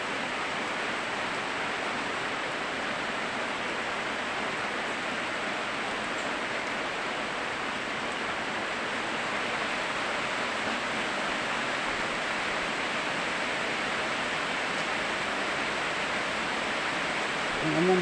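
Rain falls steadily, making a soft, even hiss that holds unchanged from start to finish, with no voices over it.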